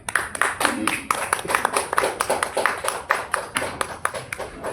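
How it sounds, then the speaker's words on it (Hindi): Audience clapping after a Hindi poetry recitation on a theatre stage, a steady patter of many hands lasting several seconds at moderate volume, no voices over it. "एक बार और इनके लिए तालियां"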